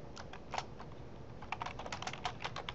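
Keys tapped on a computer keyboard while entering a name into an online sign-up form, a quick irregular run of light clicks that thickens into a denser burst toward the end, close and clear with no talking.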